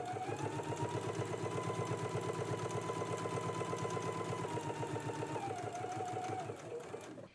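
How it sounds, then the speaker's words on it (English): A sewing machine runs a continuous basting and edge stitch along a patch pocket with flap, a fast, even rhythmic whir and clatter up close that slows and stops near the end. "Let's go ahead and do the basting stitch and the edge stitch now."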